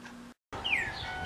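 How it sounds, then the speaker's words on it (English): A single bird chirps in a thin, rising-then-falling whistle outdoors, faint against a steady background hiss, after a brief cut to silence. "Oh, I hear the birds chirping"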